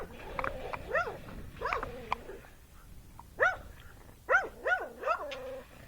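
A dog barks and yelps in short bursts near a Tennessee Walking Horse, some close together, with whiny rising tones and quiet gaps between.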